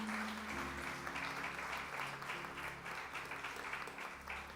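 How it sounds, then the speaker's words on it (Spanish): A congregation in church gives sustained applause during a Sunday service, a dense, even wash of clapping at moderate distance with a low hum beneath it throughout. "le podemos dar un fuerte aplauso al Señor"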